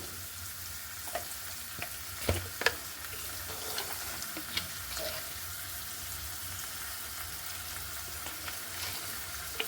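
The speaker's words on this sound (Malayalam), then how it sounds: "ഉപ്പ് ഇട്ടിട്ട് ഇളക്കുമ്പോൾ സവാള പെട്ടെന്ന് നമുക്ക് വാടി കിട്ടും" Onions being stirred with salt in a clay pot, giving a steady soft sizzle with occasional scraping clicks of the spoon, close and moderately loud, with no talking.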